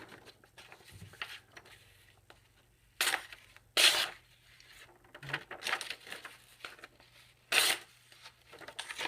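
A Schrade ST1NB multi-tool blade, sharp out of the box, slices and tears through paper in several short, crisp bursts separated by quiet pauses.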